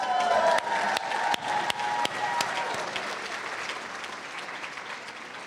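A gala audience applauds State Representative Yvonne Hinson at a Democratic dinner and silent auction. Sharp individual claps stand out early, then the applause thins and fades into a softer, lingering patter.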